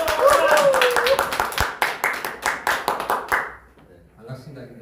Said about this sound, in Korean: 박사님을 모실 때 큰 박수와 함성으로 맞이해 주시기 바랍니다